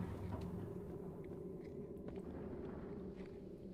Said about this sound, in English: The sound of them chewing in there is disturbing.